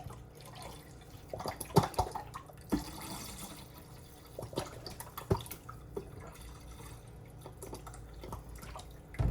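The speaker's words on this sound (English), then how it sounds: "I'm going to add 2 cups of red wine vinegar" Two cups of red wine vinegar poured into a container during kitchen meal prep, a soft, steady liquid stream with faint dripping and splashing, fairly quiet and close, with no talking.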